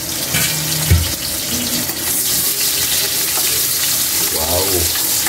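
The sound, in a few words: onion added to hot oil, frying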